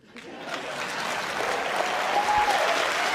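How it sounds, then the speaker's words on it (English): An audience breaks into applause, rising quickly from near silence into a full, sustained wash of clapping from a large crowd, with a faint voice briefly audible. "Listen to that applause."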